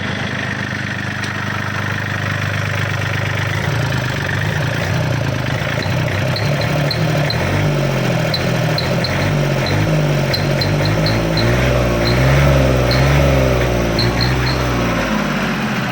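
A Yanmar 39 hp tractor engine idles loud and close with a steady low rumble that holds throughout.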